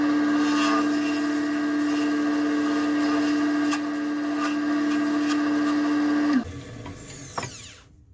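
A small gouge rounds the lanyard groove of a wooden duck call, its steady whining hum carrying light scraping before it abruptly drops away and fades out.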